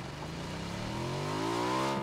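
A motorcycle engine in the PUBG video game revs up steadily on Erangel, its rising harmonic whine climbing in pitch as it accelerates, loud and close with no voices.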